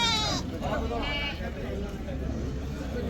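A goat bleats near the start, a wavering nasal cry, then another call follows amid steady background chatter and farmyard noise at a goat market in Chattipparamba, Kerala.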